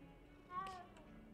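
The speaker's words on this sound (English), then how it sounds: "That was a weird meow." A cat in the video game Hogwarts Legacy gives a single short, odd-sounding meow, faint and brief over a quiet background hum.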